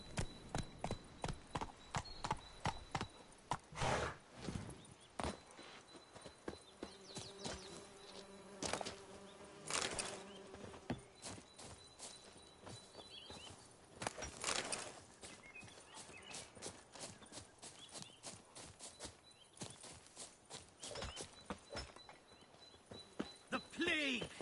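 Steady clip-clop of Roach's hooves on the ground in The Witcher 3, close and continuous for the whole stretch, with a buzzing insect drone and faint game ambience behind.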